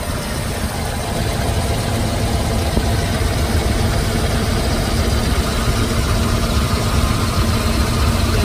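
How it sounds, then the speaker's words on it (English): A 1980 Mercedes-Benz SL 450 idles steadily, a constant broadband engine hum and vibration with no change in pace and no voices. "Engine sounds good."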